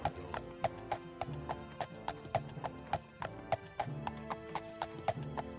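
Hooves clop in a steady, even rhythm, a horse trotting at a regular pace over a faint droning background, in the video game Daggerfall Unity.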